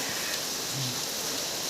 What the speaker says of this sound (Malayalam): അടിപൊളി മഴയല്ലേ